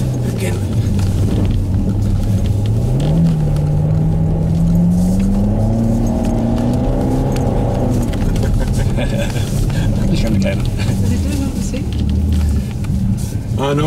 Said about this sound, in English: I need to accelerate because this is so deep.